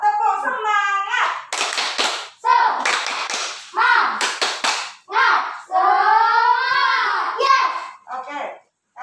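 Children in an Indonesian grade-six classroom clap a rhythmic spirit clap, bursts of sharp hand claps alternating with loud, excited children's voices calling and chanting close by.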